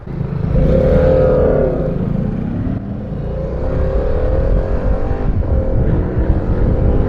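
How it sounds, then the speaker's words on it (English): A Harley-Davidson Pan America motorcycle doing a burnout in sport mode, loud and close, the engine roaring and wavering in pitch as the rear wheel spins, with a rough gritty texture throughout. "Jake just did a burnout"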